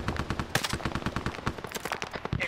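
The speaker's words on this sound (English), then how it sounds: "Taking fire!" Sustained automatic gunfire in the Vietnam War video game SOG Prairie Fire, with rapid, evenly spaced loud shots hammering for the whole stretch and a few heavier bangs mixed in.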